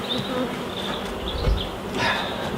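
Honey bees drone around an open hive during spring preparation in the UK, a close, steady buzzing with slight rises as individual bees pass near, and a soft thump partway through.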